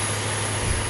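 A steady, loud rotor and engine drone from a Ka-52 Alligator attack helicopter, continuous and unbroken throughout.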